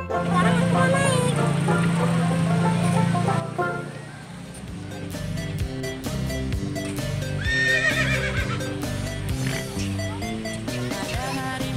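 A brown horse neighs and its hooves clip-clop, mixed with loud music and some voices throughout.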